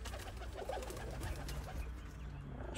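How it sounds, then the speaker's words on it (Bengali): Pigeons at a home loft in the early evening give soft, repeated low coos that go on steadily with no one talking. "ওই দেখেন কিছু কবুতর ফ্লাই করতেছে উপরে,"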